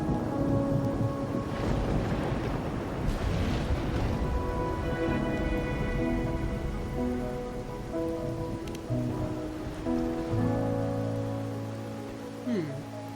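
Rain and rolling thunder in the game Wuthering Waves, a steady hiss of rainfall with deep rumbles under soft tonal music, continuous throughout.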